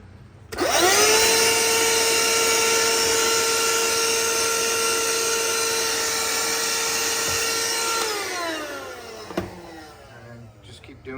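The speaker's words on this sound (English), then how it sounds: "And just keep doing that until it goes all the way through." A drill keeps cutting through a VEVOR drop-in country sink, a high steady whirring whine for about seven seconds that winds down, followed by a short clatter and quiet room sound.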